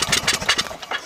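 A small Murray lawn mower engine cranking without firing, with rapid rhythmic chugging pulses from the pull-start, close and fairly loud.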